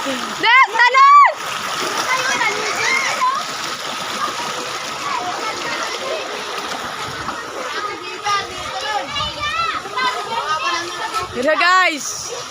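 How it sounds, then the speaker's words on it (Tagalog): Children jump and splash into water while swimming, with loud splashes at the start and end and excited kids shouting and chattering throughout. "Nes, tumalon ka na, Nes!"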